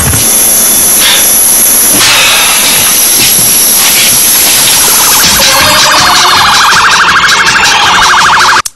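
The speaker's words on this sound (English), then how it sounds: "Hapa kuna ambulance inaonekana." Loud, continuous ambulance siren close by, its wailing tones cycling steadily and filling the whole clip without any talk before cutting off at the end.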